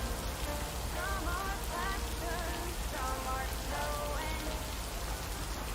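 Steady rain falling outdoors by a lake, a constant hiss of drops on surfaces with faint bird-like chirps above it and no talking.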